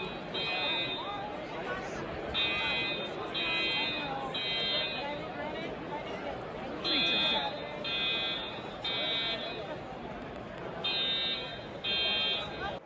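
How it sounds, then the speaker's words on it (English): At a Pokémon TCG tournament, a fire alarm sounds in repeated pulsing beeps with short gaps between them, loud over a steady murmur of crowd chatter and talk. "Fire alarm went off."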